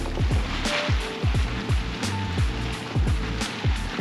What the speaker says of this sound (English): You can hear it sloshing around.